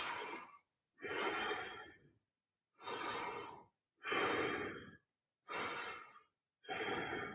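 Slow, deep breathing from someone holding a kneeling yoga pose, back straight and shoulders back: three full inhale-exhale cycles, close and steady, each breath a long airy rush separated by brief silences.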